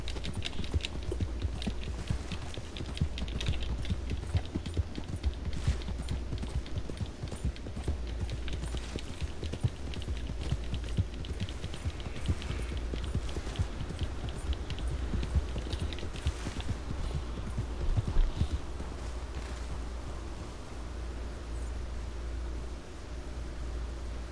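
Steady horse hooves clip-clop in the video game Red Dead Redemption 2, a fast, even rhythm lasting throughout, fairly faint over a low rumble and keyboard-like tapping.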